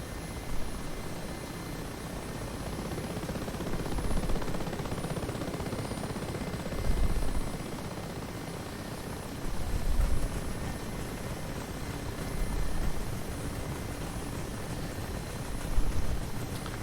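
An Mi-8 Hip helicopter in the DCS World flight simulator drones steadily with a low rotor and turbine rumble, swelling in periodic waves roughly every three seconds, loud and continuous with no voices.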